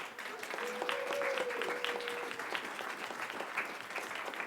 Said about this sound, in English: big round of applause for Christine Friedman, our district governor